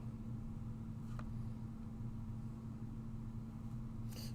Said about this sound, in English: Someone's car sounds like it's falling apart up there.